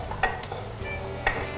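Mushrooms being stirred into a bolognese sauce in a pan, with soft scraping strokes and a couple of sharper spoon clacks over a low simmering sizzle.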